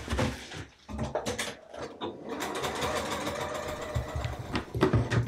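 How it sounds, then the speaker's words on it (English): Sewing machine stitching a fabric strip onto a quilt-as-you-go baby bib: rapid mechanical whirring in short starts and stops, then a steady run, close and clear with no talking. "And now I'm gonna go sew this one on."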